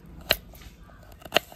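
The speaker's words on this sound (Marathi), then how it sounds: "आपण आता आल्याचे छोटे छोटे तुकडे करून घ्यायचे" Two sharp, crisp cuts through fresh ginger on a board about a second apart, each a brief close crack against a quiet kitchen background.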